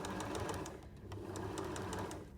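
Sewing machine running steadily as it stitches a seam along a fabric peg bag, a close, continuous mechanical whir with fast regular needle ticking and no voices.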